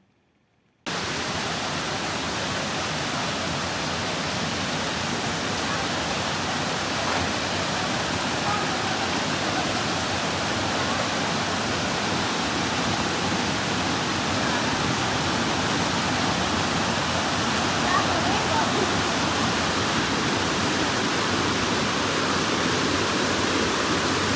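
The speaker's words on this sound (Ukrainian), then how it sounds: "зараз ви подивитесь відео там, де лелека гуляє по водоспаду і шукає собі маленьку рибку" A waterfall roars as a continuous broadband wash of falling water, loud and steady throughout after a brief quiet start, at a spot where a stork wades looking for small fish.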